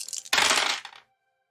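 Dice rattle and clatter across a table in one quick burst during a tabletop game, following some lighter clicks and then ending in silence.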